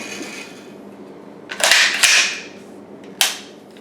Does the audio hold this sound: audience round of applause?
no